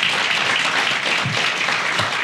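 Audience applause at a Bridge Bank party in 2019, dense steady clapping from a crowd filling the whole moment, close and loud.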